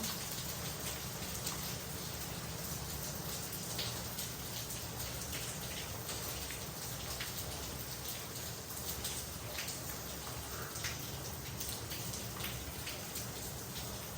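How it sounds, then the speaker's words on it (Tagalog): Steady heavy rain pours down without pause, a dense broadband hiss with scattered droplet patter, loud and close throughout. "Lakas ng ulan, no?"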